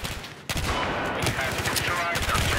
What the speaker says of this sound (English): Here come the frag rounds.